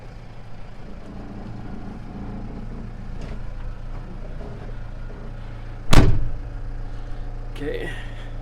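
A Mahindra Roxor turbo diesel runs with a steady low idle rumble, then a single loud thump like a door closing, followed by a brief rustle near the end.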